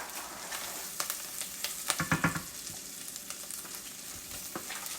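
Shrimp sizzling in a frying pan for New Orleans-style Cajun shrimp, a steady crackling hiss with a short burst of louder spatter midway and occasional sharp pops, no talk.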